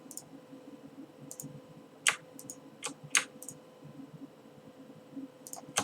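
A computer mouse gives a few sharp, quiet clicks spaced irregularly while spreadsheet columns are Control-clicked in Excel. The clicks are close and isolated against a faint, low background hum.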